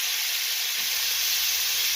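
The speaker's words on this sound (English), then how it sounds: "we can also fry the meat and until it's a little bit brown" Meat fries in a pot as the first step of a kimchi stew, giving a constant, close sizzle with a soft stirring scrape partway through and no voices.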